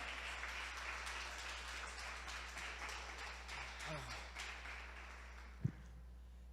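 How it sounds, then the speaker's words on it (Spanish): Congregation applause during a church sermon, a fairly faint, diffuse patter of clapping spread through a hall over a steady low hum, with a sharp knock near the end. "Dale ese aplauso fuerte si se lo vas a dar."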